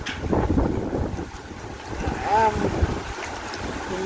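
Strong storm wind buffets the microphone in a steady broadband roar, with gusting swells throughout and a brief wavering tonal whine near the middle; no clear speech stands out over the blustering air.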